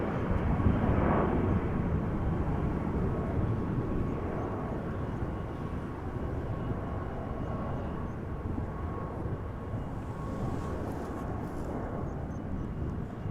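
A 19-year-old Boeing 747 departs Amsterdam Schiphol, a loud, broad engine roar that peaks early and then fades slowly while staying strong, with no voices.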